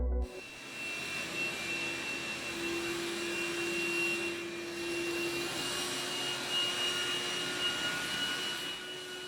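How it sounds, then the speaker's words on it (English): A Dreame D20 Ultra robot vacuum runs on a hard floor with a steady, loud whirring hum and a constant high whine, continuous throughout with no speech. "Next up is the hard floor vacuuming test."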